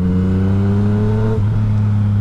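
Yamaha MT-09 2018 motorcycle engine revving under a lightly opened throttle, a steady close, loud mid-pitched drone with stacked harmonics that drops in pitch partway through and settles to a lower idle-like hum.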